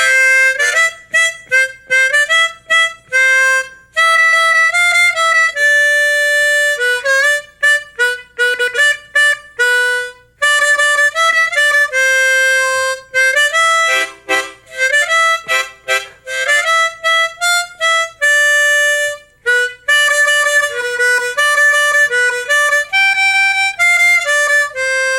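Someone plays 'Wolly Doodle' on a harmonica, fluttering the tongue on each note to create a rapid 'oodle' articulation. The bright, reedy tones come in quick, close bursts and clear melodic phrases, with no talking.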